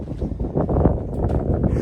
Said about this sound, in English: Excuse the wind. Always windy in this archway,